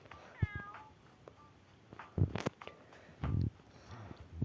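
Cats meowing several times in short, separate calls, close by, with soft rustling and quiet shuffling between them.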